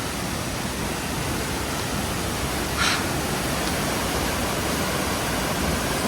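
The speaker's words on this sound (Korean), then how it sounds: "계곡이 진짜 폭포 수준이에요, 폭포 수준." Steady broadband rush of a mountain stream fills the scene, constant and fairly soft, with a brief brighter splash midway, on Sobaeksan's Cheondong trail in summer.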